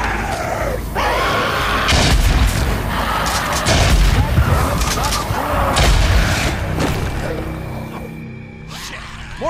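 Booming blasts from Molotov cocktails set off against a freaker nest in the video game Days Gone, dense layered explosions with crackling fire and distant cries running through most of the stretch.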